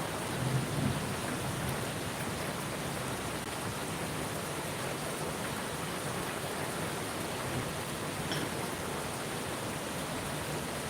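Heavy first monsoon rain pouring in Navi Mumbai with thunder, a steady loud hiss of rainfall and a low rumble near the start, no voices.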